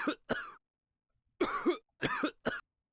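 A character coughs repeatedly in The Great Ace Attorney Chronicles, a courtroom video game: two quick coughs, a pause, then three more harsh bursts, fairly close and alone with no talk.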